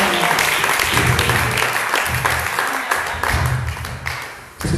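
A church congregation applauds during a worship service in Lyon, France, sustained dense clapping from a crowd across the whole stretch, loud and fairly close, tapering slightly near the end.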